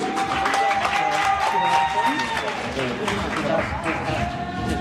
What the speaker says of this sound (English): Class of 2021 round of applause